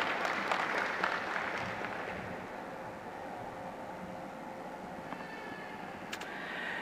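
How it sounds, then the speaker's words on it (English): Sustained applause from an audience at an environment and sustainability summit, dense clapping that fades to a softer, steady patter in a large room. "Everybody with a round of applause"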